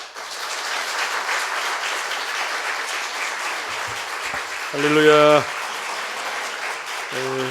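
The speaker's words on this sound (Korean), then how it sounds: "우리 목사님 나오실 때 감사를 한 마음으로 크게 박수하며 맞이하도록 하겠습니다" A church congregation at a revival meeting claps to welcome the pastor, sustained broad applause from a large crowd, with a voice calling out once and a brief tone near the end.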